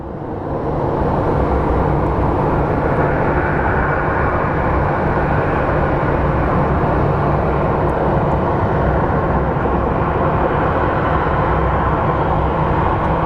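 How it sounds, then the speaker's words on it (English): A Southwest Airlines airliner taxis at Phoenix Sky Harbor International Airport, its steady broadband jet engine roar holding loud and even throughout with no voices over it. "We have our Southwest Airlines taxiing."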